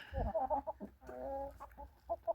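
Hens cluck softly and busily while pecking at a dry grain mix for chickens, several short, overlapping clucks and murmurs close by, with faint scratching underneath.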